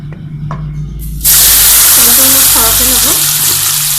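Pieces of pointed gourd seasoned with salt and turmeric drop into hot refined oil in a wok, setting off a sudden loud, close sizzle that keeps hissing steadily while a voice talks over it.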